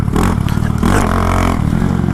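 A Honda Grom motorcycle on stock gearing accelerates hard in second gear, a loud, close buzzing engine note that rises in pitch, with a rattling clatter alongside.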